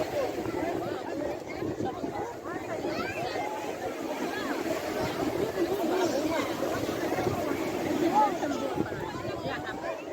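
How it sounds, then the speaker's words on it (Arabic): Crashing surf at a beach on a windy day with unusually high sea waves, a steady broad roar throughout, with people talking nearby and wind buffeting the microphone. "بصوا بقى الموجة النهاردة بصوا عالية جدا"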